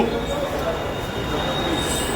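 A train rumbles at a railway and metro station, a steady, broad mechanical roar with faint squealing, continuous throughout.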